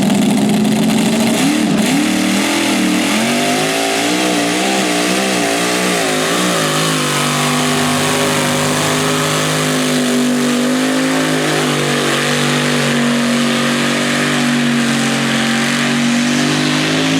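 A pulling tractor at a county fair tractor pull roars loudly and continuously, the engine revving up and down early on before settling into a steady, strained high-power drone; no talk is heard over it.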